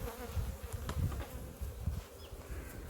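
Bees buzz steadily around beehive frames being checked for hive beetles, a close, continuous low droning hum with no talking.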